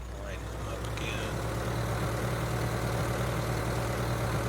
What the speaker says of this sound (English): This tractor doesn't turn quite as sharp